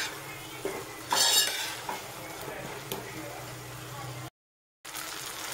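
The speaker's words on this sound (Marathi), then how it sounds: "मसाला आपला छानपैकी याच्यामध्ये भाजून होतोय" Masala paste roasting on high heat in a pan, stirred with a metal spoon: soft sizzling under scraping and clinking strokes against the pan, moderately quiet, with a brief gap of silence near the end.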